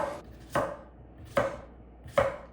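A knife roughly slicing English cucumbers on a cutting board, three evenly spaced crisp chops close by, each a sharp knock with a short crunchy tail, separated by quiet gaps.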